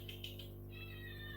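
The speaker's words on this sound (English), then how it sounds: "That's the cat." A house cat gives a short, faint, high-pitched meow with a rising then steady tone, heard once over a low constant background hum.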